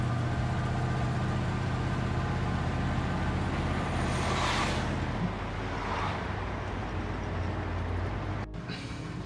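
A rare Mercury Montclair running and driving after forty years off the road, its engine holding a steady low drone throughout, close and continuous, with a brief drop near the end.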